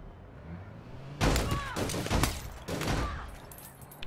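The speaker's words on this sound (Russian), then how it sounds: "Я слышу ваши выстрелы." Gunfire in the online shooter APB: a loud burst of rapid shots starts after a quiet opening and continues in clustered volleys, with one more short burst near the end.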